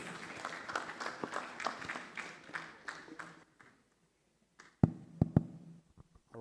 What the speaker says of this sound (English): once more, a round of applause for our moderator as he takes the stage